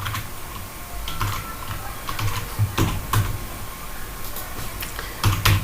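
Computer keyboard keys tapped while writing code, a steady patter of light clicks with a few louder keystrokes, close and alone with no talking.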